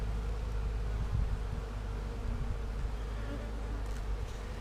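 Honeybees buzzing around hive frames at a swarm box, a dense steady drone of many bees close by, continuous and loud with slight rustling.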